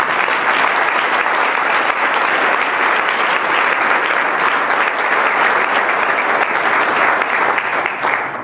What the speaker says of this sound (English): Please join us in giving this special group a round of applause for their generosity